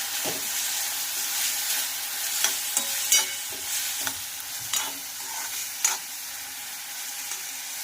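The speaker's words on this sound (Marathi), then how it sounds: "अद्रक लसूणची पेस्ट आणि दोन मिरची चिरलेली होती ते घालणार आहोत आपण आणि छानपैकी असं फ्राय करून घेणार आहोत" Ginger garlic paste and chopped green chilies frying in a pan for a capsicum dish, a steady close sizzle with scattered stirring clinks and scrapes of the spoon, no talking.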